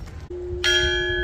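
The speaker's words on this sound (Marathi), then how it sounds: "घंटा" A bell at the wooden Sanctuary of Truth temple in Pattaya rings with a single near, clear strike whose bright tone swells and sustains evenly.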